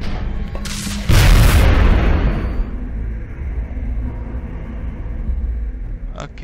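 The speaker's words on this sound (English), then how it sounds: "Point blank grenade, apparently." A grenade detonates in XCOM: Enemy Within, a loud sudden boom that hits hard and then rolls off into a long fading low rumble, with quieter game ambience continuing behind it.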